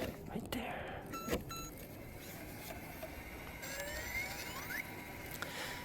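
An ARRMA 2WD RC car's electronic speed controller powering on, giving a few faint rising electronic beeps and tones near the end, preceded by some clicks and handling noise against a quiet background.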